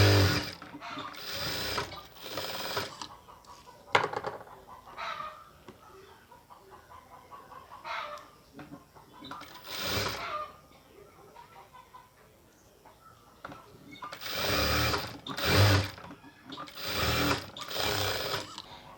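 Sewing machine stitching folded dhoti salwar fabric at a tailoring table, running in repeated loud bursts of rapid needle clatter separated by quieter pauses and handling noises.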